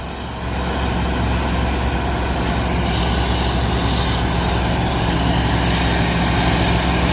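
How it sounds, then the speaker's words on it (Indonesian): Two dump trucks drive in convoy, their engines a loud, steady, broadband roar that swells slightly after the first half-second and holds constant, with no voices. "Ya, ini 2 unit truk dam konvoy."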